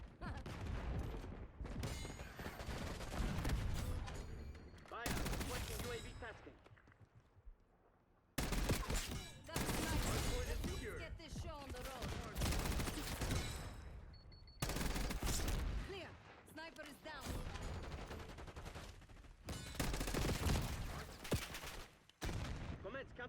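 Call of Duty Black Ops 6 multiplayer with an XM4 rifle: long, dense bursts of automatic gunfire and rapid shots filling nearly the whole stretch, broken by a few brief pauses and with game voice lines mixed in.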